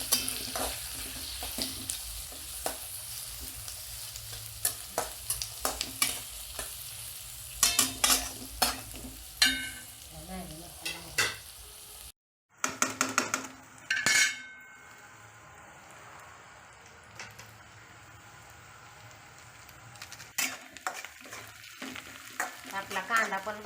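Chopped green chillies fry in a pan for rice vermicelli upma, with steady sizzling under repeated scraping and clinking of a spoon as they are stirred, one brief pause midway, then stirring resumes.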